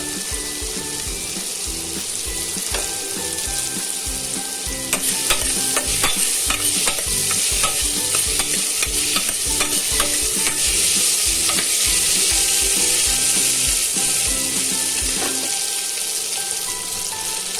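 Chopped potato fries in a pan and is stirred repeatedly, so a dense, close sizzle runs through the clip with rhythmic scraping and rattling from the spoon.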